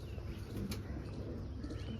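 Pigeon chicks, the young of kabootar pigeons, at a rooftop loft, cooing faintly with soft low calls against quiet background, with no talk.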